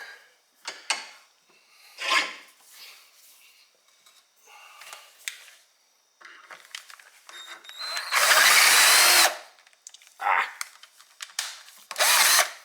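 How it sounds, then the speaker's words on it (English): A power drill whines in a series of short, uneven bursts while drilling through metal on a 1968 Pontiac GTO front end, building to one long, loud grinding run near the end, with quieter scraping between. "So I'm going to try drilling through a little bit."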